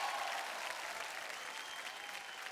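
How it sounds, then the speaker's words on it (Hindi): Dense, sustained applause from an award-show audience at the Bhojpuri International Film Awards, a steady wash of clapping hands that fills the whole moment. "विनय के लिए जोरदार तालियां।"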